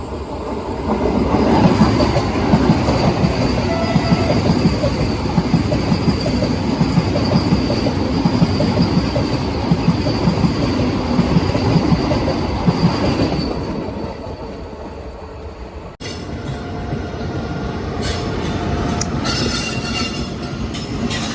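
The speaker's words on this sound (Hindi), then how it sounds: "ये आ गई अपनी वंदे भारत एक्सप्रेस।" Vande Bharat Express roaring past at Doiwala: a loud, continuous close rush of wheels and rail noise with metallic squeal, shifting abruptly to a harsher clatter for the last few seconds.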